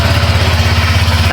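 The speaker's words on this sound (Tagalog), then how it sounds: "Ayan, sige, paganahin mo yung engine." A Honda Click 125 scooter engine idles steadily close by, a low, even throbbing hum with a faint rhythmic pulse and no voices over it.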